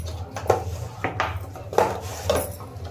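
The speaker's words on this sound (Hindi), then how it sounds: "तो अब तेल डालेंगे कढ़ाई में" Metal clinks and scrapes in a kitchen as oil goes into an Indian kadhai (wok), with four sharp knocks spaced about every half second over a low steady hum, close and moderately loud, no speech.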